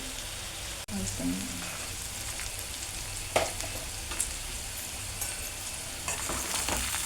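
Ginger garlic paste mixture fries and is stirred in a pan, producing steady close crackling with occasional scrape and clink accents and a low voice briefly underneath.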